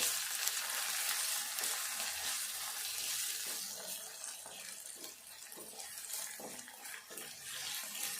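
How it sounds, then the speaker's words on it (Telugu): Ginger garlic paste fries in a pan for lentil dal, giving a steady, fairly faint sizzle and hiss with small crackles throughout, no voices. "ఈ అల్లం వెల్లుల్లి పేస్ట్ ఫస్ట్ వేసుకుంటే మాడిపోద్ది. అందుకే కొంచెం ఇవన్నీ కొద్దిగా గోలినాక వేసుకోవాలి. ఇది కూడా కొద్దిసేపు వేగాలి."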